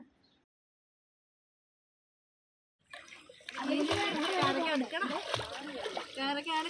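Water splashing and sloshing as a child plays in a river, loud and continuous after a few seconds of near silence, with voices mixed into the busy splashes.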